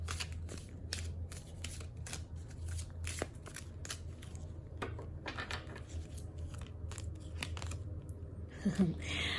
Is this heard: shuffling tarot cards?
yes